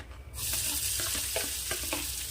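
Chopped onion sizzling in a hot pan of oil while cooking a dry ambadi leaf bhaji, a steady loud fry with soft stirring scrapes throughout, no voices.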